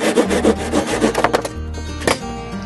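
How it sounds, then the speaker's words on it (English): A handsaw or sawzall cuts through a 2x6 board in loud, close, rhythmic rasping strokes that stop briefly and then give a final scrape. No one talks. "sometimes your saw won't cut all the way through a 2x6, and when that happens, you just take a handsaw or a sawzall"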